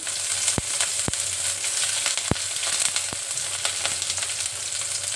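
Onions frying in hot oil for aloo kofta rice, a steady close sizzle with sharp crackling pops, heard alone without talk.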